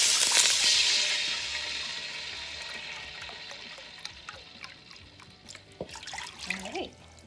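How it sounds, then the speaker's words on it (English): Vegetable broth pours into a pan with a bright liquid splash that starts loud and gradually fades into softer trickling and drips, with no talk. "now we're going to add our vegetable broth"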